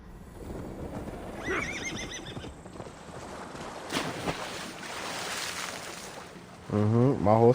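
A horse in the video game Assassin's Creed Valhalla lets out a shrill neigh early, followed by hoof clops and splashing water, then a second loud, close whinny at the end.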